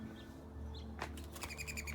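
A dove near a parked Lincoln Town Car calls in a short burst of repeated clear notes, moderately close and alone, over a faint steady outdoor hum.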